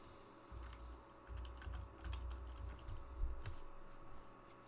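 An amount being typed on a computer keyboard in a spreadsheet, a quiet run of light key taps over a low steady hum.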